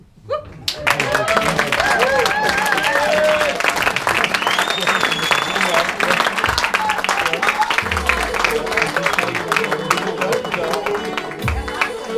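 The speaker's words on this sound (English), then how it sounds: "I'd like you to give her a very big warm round of applause so she feels very welcome" Audience applause welcoming a performer at a clown slam, a dense wash of clapping that begins abruptly and holds steady and loud for several seconds, with voices and some musical tones mixed in.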